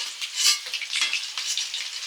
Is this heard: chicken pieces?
yes